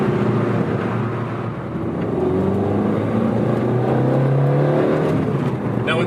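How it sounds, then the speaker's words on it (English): The engine of a 15-year-old exotic sports car drones loudly and steadily, its pitch gradually climbing as it revs, close and without speech. "the sound that the engine makes is really, really good"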